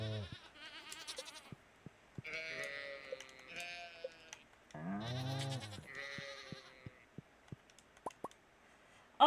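Sheep bleat repeatedly in the farming game Stardew Valley, several wavering calls of varying pitch spaced across the stretch, interspersed with soft plopping clicks and a sharp tick at the end.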